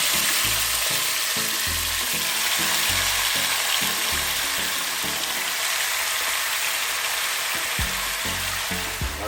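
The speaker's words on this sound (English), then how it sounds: "You want to hear that sizzle." Chicken frying in a hot pan, a loud, dense, continuous sizzle close up with faint stirring scrapes and no talking.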